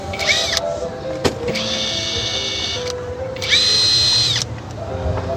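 Cordless impact driver driving screws into roofing, with several bursts of high whining, rattling hammering separated by short pauses, close and loud, with a faint voice nearby.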